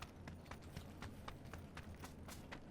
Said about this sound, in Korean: 뭔데 자꾸 그 발소리 같은 게 들리는 거지?